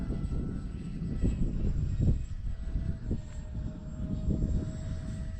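An X-Fly A-10 RC model jet flies in windy, gusty conditions with a steady, moderately loud whining drone, broken by low buffeting bursts of wind noise.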